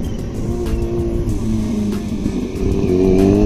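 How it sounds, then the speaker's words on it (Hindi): A motorcycle engine revs hard and continuously close by as the rider pulls a wheelie on a dirt bike, the roar swelling louder toward the end. "व्हीली मारेगा अभी, देखो"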